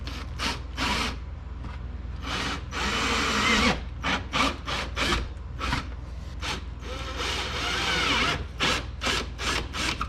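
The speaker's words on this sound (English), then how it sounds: "we're gonna go ahead and drill those holes, install those push pins" Repeated short bursts of a power drill boring holes for push pins through a cardboard pattern on a Kawasaki KRX 1000 UTV rear fender flare, loud and close, with brief pauses between each hole.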